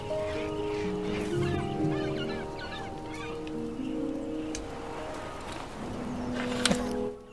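A bird in the video game Broken Age squawks and clucks in short, repeated bursts, moderately near, over a soft game soundtrack.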